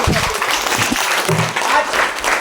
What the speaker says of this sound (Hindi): फिर से तालियां हो जाए